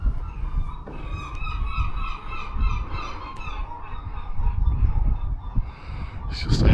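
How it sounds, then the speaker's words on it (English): Seagulls and pigeons at Scarborough: repeated harsh gull calls and honking cries ring out nearby over a low background rumble. "It's just a haven for pigeons and seagulls now."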